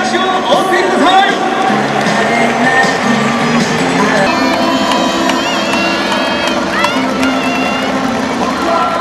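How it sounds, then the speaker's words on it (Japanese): A stadium crowd at an Orix versus Seibu baseball game cheers and applauds the players, a loud, steady roar with shouting voices throughout the nine seconds and no clear break. "世紀の農業選手たちに盛大な拍手をお送りください。"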